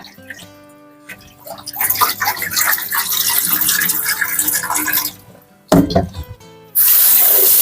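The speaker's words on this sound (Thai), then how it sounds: "เปิดน้ำเย็นใส่เลยนะคะ" A kitchen tap runs cold water with a loud rushing stream, broken by a brief pause and clatter before the flow gushes on again.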